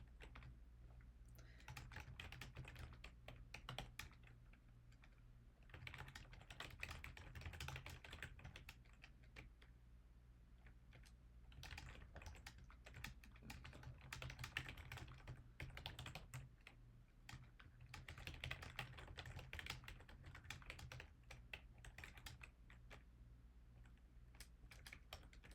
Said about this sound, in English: this is also largely just going to be me typing stuff out